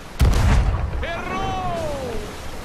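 A sharp, booming cannon blast in the video game Sea of Thieves, followed by a whistling projectile sound that slowly falls in pitch over a noisy background.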